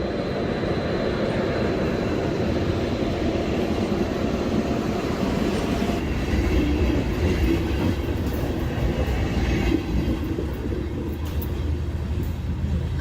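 A train rolls along rails in Ukraine with a loud, continuous rumbling roar and steady rattling of the carriages, heard from on board, unchanging for over ten seconds with no talk.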